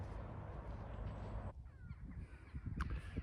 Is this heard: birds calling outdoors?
yes